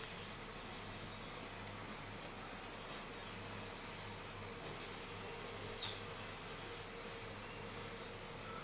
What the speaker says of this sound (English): I hear wasps.